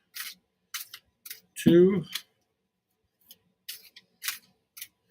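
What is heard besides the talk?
shuffling tarot cards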